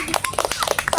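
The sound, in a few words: class clapping hands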